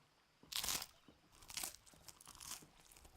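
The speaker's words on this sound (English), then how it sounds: "That's some crunchy ass bread." Bread from a tavern crunches in Final Fantasy XVI, three close, crisp bites spaced about a second apart, with a quiet background between them.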